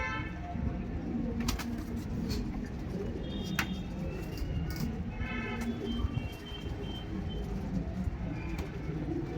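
Pigeons kept for flying competitions coo steadily through a dense, noisy background, their soft rolling calls repeating without pause and partly masked by the surrounding din.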